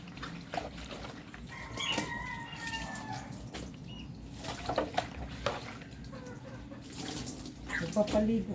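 Water splashes and pours over chickens being bathed, with faint clucks and wing flaps mixed in; the pouring rises in uneven surges across the clip.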